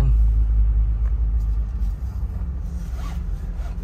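A Toyota Land Cruiser with triple locking differentials pulls away in four-wheel drive, a deep, loud engine rumble close by that eases slightly, with a few faint clicks and rattles over it.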